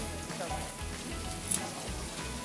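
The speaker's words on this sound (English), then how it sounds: "as the fat melt from the fire, it will oil your pan" Lamb fat and onions sizzling in a pan over a fire at a Hokkaido barbecue, a continuous soft crackle and hiss with a low rumble beneath.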